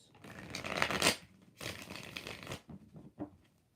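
Tarot cards shuffled by hand in two quick riffled bursts, then a few softer taps and flicks, close and fairly quiet with no talking.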